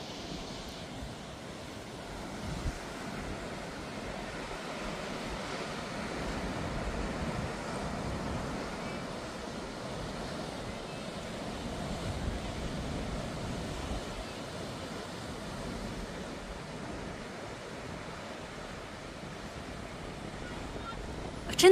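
Ocean waves and wind at Cape Finisterre on Spain's northwest coast, a steady broad wash of surf with gusty wind noise on the microphone, continuous and fairly even throughout.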